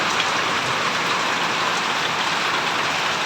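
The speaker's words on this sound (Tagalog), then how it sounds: "ang lakas po ng ulan ngayon" Heavy rain pouring steadily in Payatas, a dense, loud, unbroken hiss of downpour close by with no pauses.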